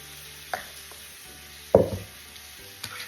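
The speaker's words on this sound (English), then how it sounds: "Ooh, you hear that frying? I throw these onions in." Onions hitting a hot pan while a green pea salad is made, giving a few short sizzling bursts, the loudest near the middle, over a quiet kitchen background with no talk.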